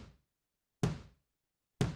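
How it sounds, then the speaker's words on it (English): Room kick drum sample heard alone in a studio mix, a roomy, reverberant thud with a brighter attack, struck evenly about once a second and ringing out with a short airy tail. "then we have the room kick,"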